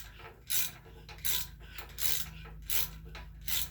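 Tap cutting a thread in cast iron on a GM 2.4 Twin Cam engine, five close scraping, rasping bursts in a regular turning rhythm over a low steady hum.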